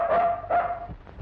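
A dog barks in two short, loud bursts close by, with a soundtrack tone under it, in a scene from an old Tamil film.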